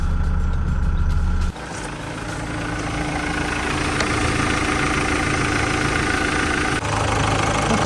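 A Renault Master 3 van's diesel engine idles steadily with a low, even rumble and slight knock, close by; the tone shifts briefly near the start and end.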